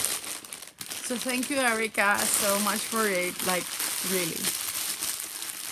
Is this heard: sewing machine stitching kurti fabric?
no